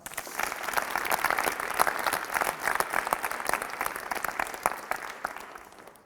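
Students at a leadership assembly clap for several seconds, the individual hand claps crisp and distinct as the applause swells, holds and then tapers off near the end.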